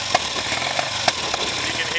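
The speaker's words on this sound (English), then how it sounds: "it'll take a little bit to get it warmed up to a good, proper idle" A cold 1969 Triumph Daytona 500 motorcycle engine idles roughly up close, a loud, continuous mechanical drone with small irregular pops and bumps in its rhythm.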